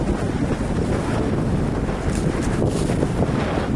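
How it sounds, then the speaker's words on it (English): A rowing boat pushes through a 20-knot gust in the Strait of Juan de Fuca, strong wind buffeting the microphone in a loud continuous roar over faint water wash, no speech. "as they row through a 20-knot gust"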